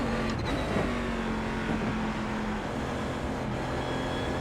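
Race car engine in iRacing at Watkins Glen, a steady held-throttle drone with a faint whine, fairly quiet and continuous with no talking.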